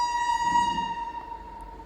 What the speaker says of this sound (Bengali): এরকম ওয়াইল্ড লাইফ স্যাংচুয়ারি, তার মাঝখান থেকে ট্রেন যাচ্ছে, আর কতটা আস্তে আস্তে যাচ্ছে দেখো একবার